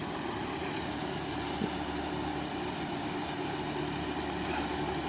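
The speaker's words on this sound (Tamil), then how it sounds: "இன்ஜினோட சவுண்ட்லாம் பாருங்கள், நல்லா பக்காவாக இருக்குது" A John Deere 5075E tractor engine idles steadily in a banana field, a continuous loud diesel rumble that stays even and close throughout with no talk.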